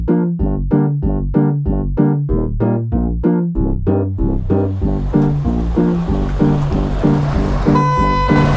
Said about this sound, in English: Everyone's honking their horns because they're really angry.